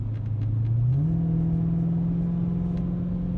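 A 2020 widebody Dodge Challenger Hellcat Daytona limited edition accelerates, its supercharger whine rising then holding over a steady engine rumble, heard from inside the car without talk.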